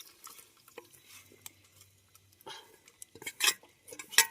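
A spoon scraping and clinking against a clay pot as fish curry is stirred and mixed, giving sparse, irregular taps and scrapes that grow busier and sharper toward the end, close up with little else around.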